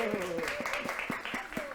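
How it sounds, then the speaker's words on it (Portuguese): Crowd applause with rhythmic clapping, steady and moderately loud, mixed with a voice and some tonal sound over it. "Por favor, palmas para Daniele Ramalho"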